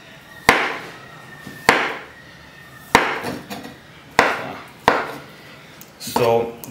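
A knife cuts cooked potatoes into discs on a board, five sharp, loud chops at a steady rhythm, each followed by a short rustle, with a brief voice at the end.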